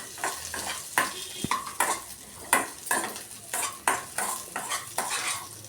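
A spicy flour-and-chili side dish mixture roasts in a pan, with steady scraping and stirring strokes of a spatula over a soft sizzle and occasional clinks of metal on the pan.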